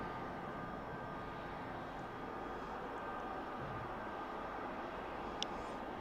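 Steady, broadband roar of a jet aircraft engine, apparently a vectored-thrust nozzle type, in flight over the Isle of Skye near Broadford, holding constant and loud with no voices throughout.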